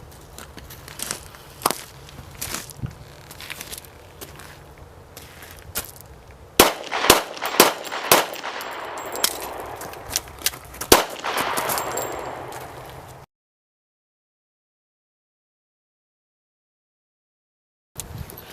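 During a sheriff's firearms demonstration, a shooter reloads and fires, with scattered clicks and footsteps followed by a rapid string of sharp, fairly distant gunshots, then the sound cuts to silence.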